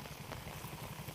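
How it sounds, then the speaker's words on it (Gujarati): Heavy rain comes down over a village in a dense, even hiss that never lets up, soft and wide with no break in the wash. "ફૂલ વરસાદ છે."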